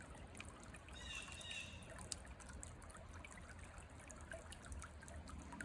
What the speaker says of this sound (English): taking a little walk in the creek.